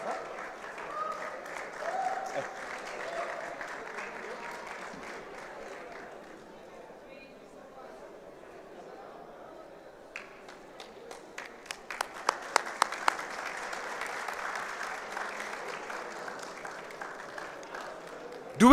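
Scattered applause from a conference crowd cheering sponsors rises and falls, with a few sharp, louder claps standing out near the end amid general room noise.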